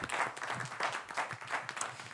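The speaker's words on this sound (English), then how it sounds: "Round of applause for Handmade Moments." A crowd claps steadily and enthusiastically, a dense wash of applause filling the whole moment.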